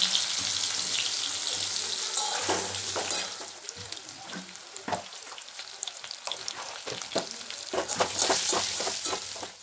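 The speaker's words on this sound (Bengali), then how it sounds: "প্রথমে সেদ্ধ করা আলুগুলোকে আমি লাল লাল করে ভেজে নিই।" Boiled potatoes fry in oil in a pan until browned: a close, steady sizzle broken by scraping stirs, with no one speaking.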